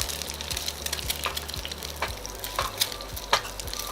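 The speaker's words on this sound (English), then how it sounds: "Let it fry. It's gonna bubble up" An egg fries in hot oil in a pan, crackling and sizzling steadily up close with frequent small popping bursts and no talking.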